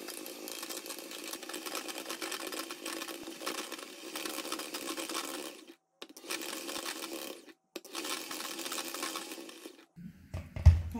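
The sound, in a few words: whisking cream into chantilly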